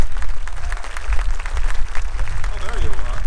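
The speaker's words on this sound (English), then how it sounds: "We'll pause for applause on that one." Rally crowd in support of a sheriff and the 287(G) program applauding steadily throughout, a dense wash of clapping with a voice talking over it near the end.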